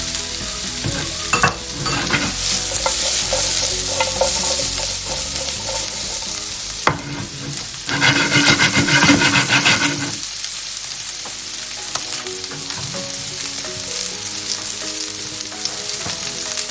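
Onion and ginger sauté in a hot pan for Gobi Manchurian, a steady close sizzle with stirring scrapes and clatters, swelling louder midway as fresh pieces hit the oil, then settling to a softer fry.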